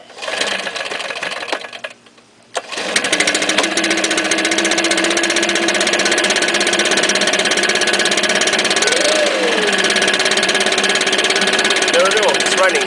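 A 2012 Stihl BR550 backpack leaf blower's engine briefly drops out, then catches and settles into a loud, steady buzzing drone that holds close by, with a slight wavering near the end.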